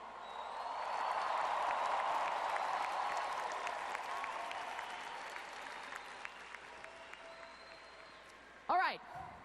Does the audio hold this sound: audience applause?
yes